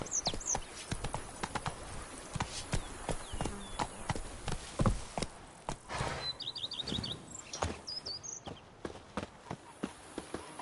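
Hooves of a horse in The Witcher 3 clip-clop steadily at a walking pace, with scattered bird chirps and tweets above the rhythmic steps.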